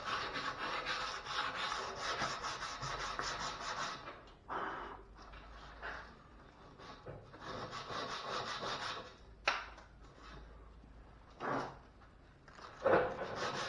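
Hand sanding of a 1964 Buick Skylark steel car wheel with 80-grit sandpaper: steady close abrasive rubbing strokes, continuous at first, then broken into shorter scrubbing bursts with brief pauses.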